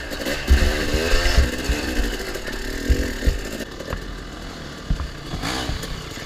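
A dirt bike rides downhill over a log on a trail, its engine revving in uneven bursts and bogging, with thumps and knocks as it crawls over the obstacle, fairly close.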